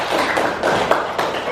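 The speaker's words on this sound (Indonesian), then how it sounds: "Oke, tepuk tangan buat saudara Ihsan." Applause breaks out in a classroom for a student, a dense patter of clapping hands that stays steady and fairly loud for a second and a half, with no speech over it.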